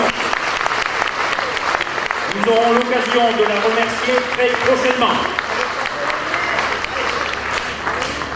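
An audience at an association gathering gives loud, sustained applause for an honoured 94-year-old woman, a dense steady roar of hands that lasts throughout while someone speaks over it.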